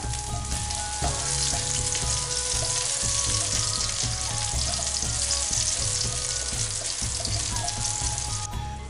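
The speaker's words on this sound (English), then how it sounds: "time to add the garlic and the ginger till it all goes all brown" Garlic and ginger fry in a hot pan for a Chinese duck stir fry, giving a loud, steady sizzle with crackling that runs unbroken through the whole stretch, alone with no voices.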